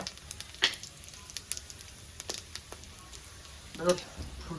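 Hot oil in a pan for chicken curry gives a faint, steady sizzle broken by scattered small pops and crackles, with people talking nearby.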